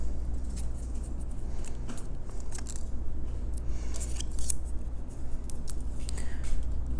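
Paper rose edges for a handmade card are curled with the tip of a pair of scissors, giving soft scraping and crinkling with sharp little clicks and taps, close up and quiet, over a low steady hum.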